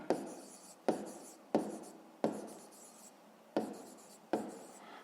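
Pen strokes on paper while working a fifth-grade math exercise by hand, six sharp scratchy strokes at a steady pace, close and fairly quiet.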